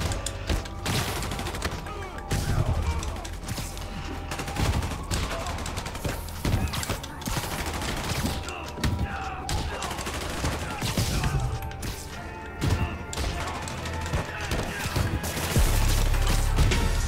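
Gunfire in the video game Marvel's Spider-Man crackles in rapid bursts and scattered shots amid crashing impacts and busy action noise, loud and continuous throughout.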